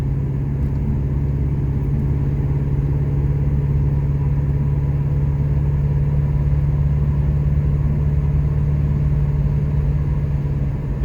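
A 1979 Pontiac Trans Am with a mild build gives off a continuous deep engine rumble heard from inside the car, steady and loud with no talking.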